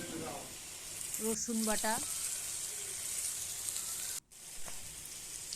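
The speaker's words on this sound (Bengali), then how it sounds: "কাঁঠালের বীজগুলোকে দিয়ে দেবো, দিয়ে ভালো করে ভেজে নেব।" Jackfruit seeds fry in a pan with spices, giving a steady, loud, close sizzle throughout while someone speaks briefly near the start.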